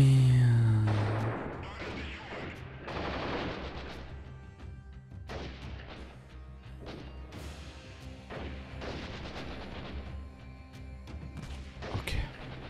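Gunfire in the first-person game Freeman: Guerrilla Warfare, with loud bursts of shots and heavy impacts that start strong and then repeat irregularly at a lower level across a battle, alone without talk.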